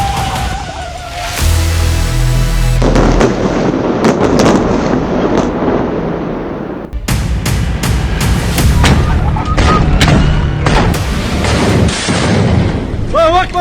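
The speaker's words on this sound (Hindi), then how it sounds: "बहुत से धमाके हो रहे हैं।" Explosions from attacks in Gaza sound as repeated sharp blasts and booms in bursts, loud and close, with voices mixed in between them.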